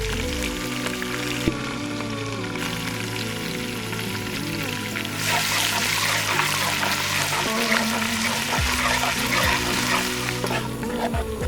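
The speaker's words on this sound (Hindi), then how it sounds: "यहाँ पे हम इसके अंदर डालेंगे अदरक लहसुन का पेस्ट।" Ginger garlic paste hits browned onions in hot oil for beef kofta pulao, producing a dense, rain-like crackling sizzle that swells louder midway, with a low tonal hum running beneath.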